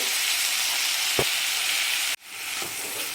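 Chopped tomatoes sizzle as they fry in a pan with onions, a steady loud hiss throughout with a brief stir around the middle and a momentary dip before the frying resumes.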